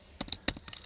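Several quick, quiet keystrokes on a computer keyboard, irregular clicks spaced through under a second, close and isolated against near silence.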